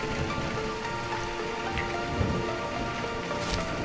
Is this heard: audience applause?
no